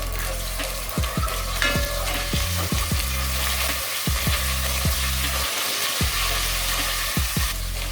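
Ginger garlic paste sizzles loudly in hot oil with green cardamom in a pan for a chicken and potato curry, while a spoon stirs and scrapes in repeated strokes under the steady frying hiss. No one talks.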